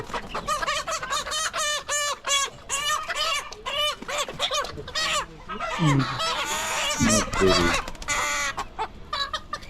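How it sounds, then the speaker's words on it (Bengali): A Brahma cross chicken calls loudly and close by, giving a run of repeated, rapid clucking and squawking calls that continue through the whole stretch with only brief gaps. "আর এই মুরগিটা দেখছেন"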